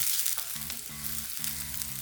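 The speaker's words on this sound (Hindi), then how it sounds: "मीडियम फ्लेम पे हम अनियन को टॉस करेंगे।" Onion frying in olive oil over a medium flame, a soft steady sizzle with brief tossing movements, faint and close, with a low tonal hum running underneath.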